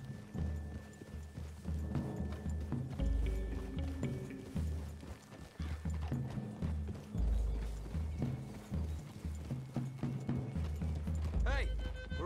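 Horse hooves clip-clop steadily in Red Dead Redemption 2 as riders move through trees toward a clearing, a continuous rhythmic patter under frequent voices and music.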